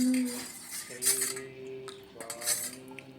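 Crushed camphor being mixed in a metal dish, with repeated light metallic clinks and scrapes ringing close up, alone with no talk.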